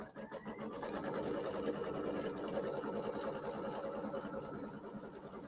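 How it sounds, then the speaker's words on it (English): A sewing machine stitches out a tack-down line on a bench pillow quilting project, a steady rapid mechanical whir of needle strokes running continuously and close for the whole stretch with no talking. "I'm going to go ahead and sew out step number 17 on the machine"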